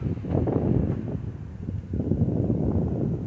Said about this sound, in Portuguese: hoje, vento de inverno